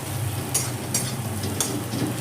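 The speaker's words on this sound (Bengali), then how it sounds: "পেঁয়াজ ভাজতে প্রচুর সময় লাগে।" Onions frying in a pan give a steady, soft sizzle throughout, with a few brief scraping stir sounds at intervals, close and fairly quiet.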